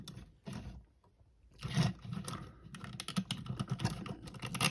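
Plastic parts of a Transformers Generations Fall of Cybertron Soundwave figure click and clack close by as the arms are folded down, a run of quick, irregular snaps and rattles with no voice over them.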